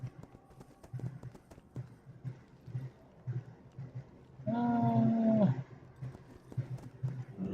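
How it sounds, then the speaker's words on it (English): Horse hooves clip-clop in a barn in World of Warcraft, a steady, soft clatter under background sounds, broken midway by a single loud drawn-out animal call. "well, it is a horse, and I am in a barn"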